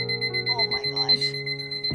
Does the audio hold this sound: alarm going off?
yes